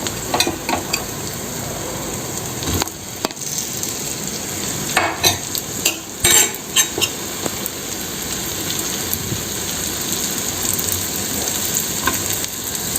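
Chopped onions sautéing in a hot pan, a steady close sizzle and frying hiss with occasional stirring scrapes and clatters, continuing without talk.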